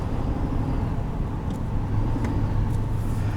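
A 2020 Chevrolet Silverado 2500 Alaskan Edition pickup driving on back roads, its engine giving a steady low rumble heard from inside the cab, with a few faint ticks and rattles over the drone.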